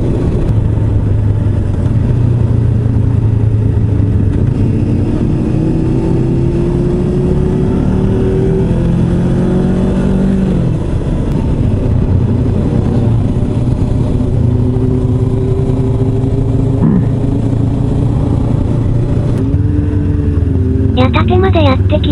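A group of seven motorcycles, including a CBR400R, MT-07, Balius 250, CB1100EX and W800, riding a touring road in Japan. A loud steady engine drone holds throughout, pitch rising and falling with gear changes, with heavy wind rush over it.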